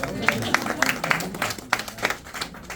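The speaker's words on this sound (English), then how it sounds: "Give yourself a round of applause." A small tour group applauds inside Sun Studio in Memphis: scattered, uneven claps from a handful of people, moderately close, with a few louder bursts and some voices mixed in.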